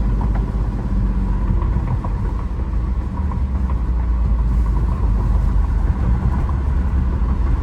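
A 1994 BMW 325i cruising along, its engine and road noise forming a loud, steady low rumble from inside the cabin with no break.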